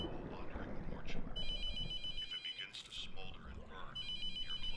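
In the horror game The Mortuary Assistant a telephone rings repeatedly, clear tonal rings recurring across the clip with brief gaps, under someone talking over a dark ambient background.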